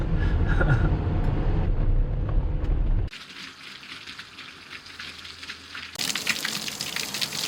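Heavy storm swell water rushing and gushing along the Cornwall coast in the UK, a loud churning roar at first that drops to a quieter hiss, then swells again, with no voices.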